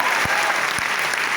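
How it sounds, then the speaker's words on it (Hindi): Audience applause from a crowd at a motivational lecture, steady dense clapping that fills the whole moment with no pauses. "अगर एग्री करें तो ताली बजाइएगा।"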